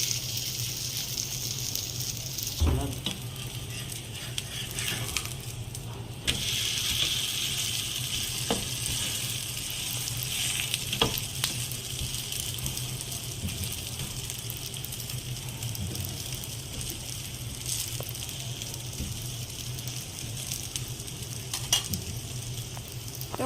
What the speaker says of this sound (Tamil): இப்போ இந்த மாவை ஊற்றிக்கலாம். அடை மாதிரி ஊற்றிக்கோங்க கெட்டியாக.